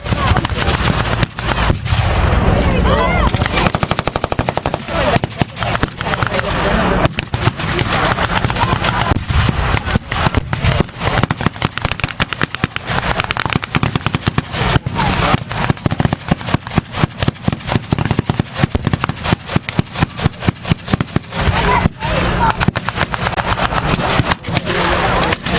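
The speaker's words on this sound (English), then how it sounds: "Artillery pieces on the German side are still operational, bombarding the Allies here and there." Artillery and gunfire at a World War 2 battle reenactment at Midway Village, with dense, loud cracks and booms repeating rapidly over a steady rumble, punctuated throughout the scene.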